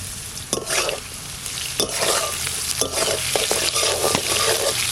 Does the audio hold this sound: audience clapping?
no